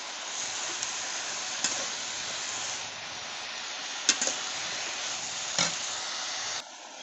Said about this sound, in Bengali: এবার এই শাকগুলো দিয়ে দেবো। ভালো করে কষে নেব।